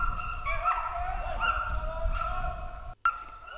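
Hunting dogs chase a wild boar, giving off continuous yelping, whining cries over a low rumble of movement. A sharp break and knock come near the end.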